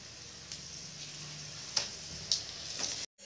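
Bun parotta frying in hot oil on a low flame, a steady soft sizzle with a few brief crackling pops, cutting off abruptly near the end.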